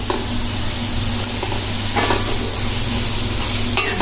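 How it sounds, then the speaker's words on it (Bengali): Dried fish frying in spice masala, sizzling steadily in a pan while being stirred, with a few louder scrapes of the spoon over the constant close, loud hiss and no talking. "শুটকিগুলো আমি এখন মশলাতে দিয়ে দেবো"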